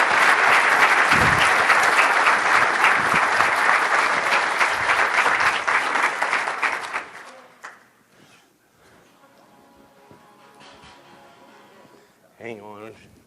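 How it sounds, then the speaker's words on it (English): Audience at a school scholar attitude presentation clapping loudly and steadily for several seconds, then the applause dies away and a voice speaks over the quiet room. "But clap for both of them."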